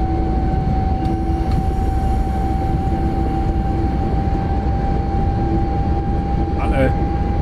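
Inside the cab of a BR 101 locomotive on an Intercity service to Berlin in Train Simulator Classic at high speed: a loud, steady roar with a constant tonal whine and a few brief clicks.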